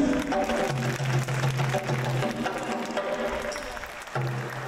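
A crowd claps for a performer being introduced on stage at a 1995 Hanshin-Awaji earthquake relief concert. The applause is moderately loud over steady tonal music in the background and thins out toward the end.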